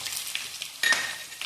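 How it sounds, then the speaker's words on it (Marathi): Finely ground garlic dropped into hot oil already holding mustard seeds and cumin, giving a soft steady sizzle and then a sharp, louder burst of crackling as it hits the pan. "त्यात असा बारीक वाटलेला लसूण टाकला"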